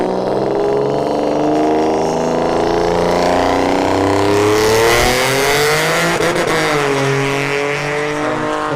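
A Tesla Model S Plaid makes a drag strip run, a smooth electric whine sweeping upward as it accelerates hard, loud and close, with a brief tire chirp and no talking.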